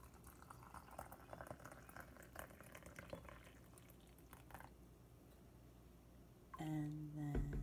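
Very hot boiling water poured from a kettle into a color-changing mug, a soft steady liquid stream heard up close for several seconds before a brief louder clunk near the end.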